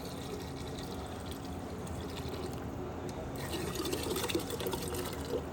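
Water is poured into a pot for pulao rice, a soft, continuous splashing fill with a little clatter that swells slightly toward the end and is heard alone.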